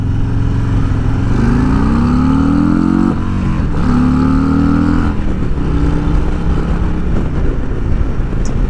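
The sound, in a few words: motorcycle revving to rev limiter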